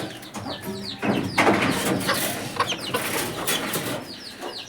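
Chickens cluck on a rooftop in repeated short calls, near and moderately loud over faint background noise, without talk.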